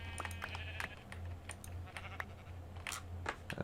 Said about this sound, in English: I'm going to kill me some sheep.